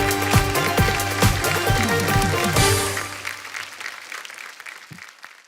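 Studio audience applause for a stand-up comedian from Varanasi on a comedy competition show, loud and dense with scattered claps for about three seconds, then thinning out and trailing off into quieter sparse clapping.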